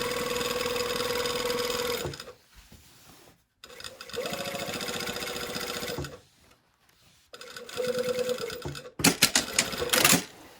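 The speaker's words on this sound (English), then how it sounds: "I'm sewing this at the regular seam allowance" A sewing machine runs in three bursts of rapid mechanical stitching along a 5/8-inch seam at 2.5 mm stitch length, pausing in between with small handling clicks, fairly close.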